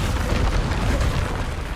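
Magical blast spells Confringo and Descendo cast in Hogwarts Legacy, a dense, rumbling burst of explosive energy sustained throughout, loud and close with booming low-end impact and no speech.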